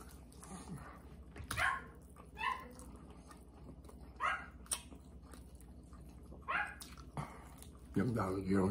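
Several dogs barking in short bursts near a backyard barbecue of baby back ribs, with sharp barks and yips spaced every second or so while people talk nearby.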